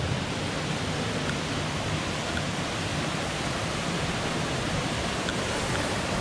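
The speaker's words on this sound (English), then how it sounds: "Check out this waterfall from another angle." Waterfall on Siouxon Creek, a loud, unbroken broadband roar of falling water that stays constant throughout with no voices.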